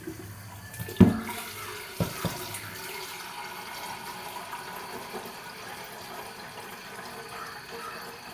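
Water runs from a kitchen tap in a steady, soft stream, drawn for cooking rice, after a couple of sharp clunks near the start, continuing quietly and evenly.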